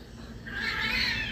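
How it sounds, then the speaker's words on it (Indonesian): A single drawn-out yowl from cats mating, rising in pitch, strained and wailing, heard over faint background hum. "ada kucing kawin lagi"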